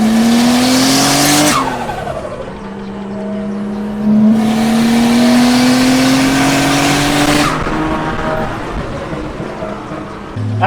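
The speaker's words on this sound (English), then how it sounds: "That's a loud turbo you got there." A loud turbocharged Nissan Stagea C34 RB25DET engine roars past on a race track, revving up and down through gear changes with tires squealing, no voices.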